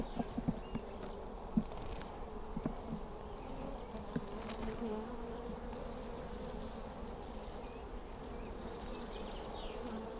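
Steady, dense buzzing of many bees in a hive, including drones, fills the whole clip, a continuous low drone with occasional louder individual buzzes close by.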